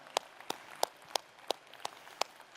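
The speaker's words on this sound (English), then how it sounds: "Yeah, you should be clapping if you're a gamer." A few sparse, separate claps at a Xiaomi smartphone launch event, eight sharp isolated hand claps spaced roughly evenly, fairly faint and distant, with no talk over them.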